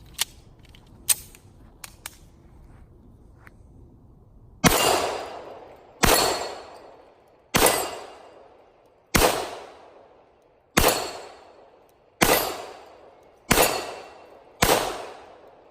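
Eight loud, evenly spaced shots from a Smith & Wesson E-Series 1911 pistol in .45 ACP, each a sharp outdoor crack with a long decaying echo, preceded by a few faint metallic handling clicks.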